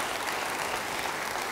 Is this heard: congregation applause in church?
yes